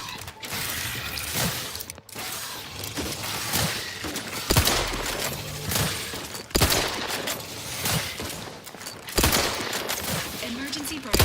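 Enemy gunfire in the video game The Outer Worlds 2, with repeated sharp loud shots spaced a second or two apart over a dense, clattering mechanical background on the hardest difficulty.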